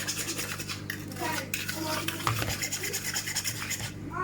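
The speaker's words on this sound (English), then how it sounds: "Now I know that's not the correct way to cream butter and sugar" Butter and sugar creamed by hand in a bowl, a repeated scraping and rubbing of a utensil against the bowl in uneven strokes, close and fairly loud.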